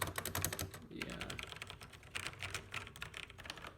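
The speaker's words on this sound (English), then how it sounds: "But this is like a really nice keyboard. Like, listen to this click on the volume keys." Mechanical keyboard keys clicking in quick, irregular bursts of typing, close and fairly crisp, with a blend of tactile and clicky switches, including the volume keys.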